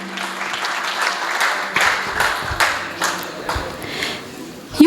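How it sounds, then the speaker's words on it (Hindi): Audience applause at a Hindi poetry recital, a dense steady patter of many hands clapping for several seconds, with a few louder claps standing out near the end. "तालियां बजा दीजिए।"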